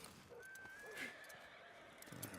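A horse whinnies in Red Dead Redemption 2, giving one rising and falling neigh of about a second that stands out over a steady background ambience.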